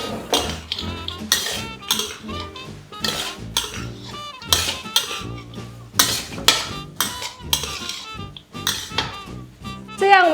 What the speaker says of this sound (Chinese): 放入已炸好的冻豆腐，翻炒一下